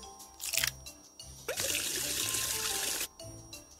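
Water pours into a tooth mug in a cartoon, a bright continuous splashing stream lasting about a second and a half, set between short chiming game sounds with no talk.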